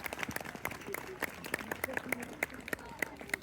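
Audience clapping at an outdoor winter birds of prey show with hawks at Warwick Castle, a steady scatter of sharp hand claps at moderate distance, with a voice talking over it.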